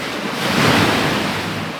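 Ocean waves wash onto rocks at remote sea caves in a steady, loud surging roar that swells midway, with wind buffeting the microphone throughout.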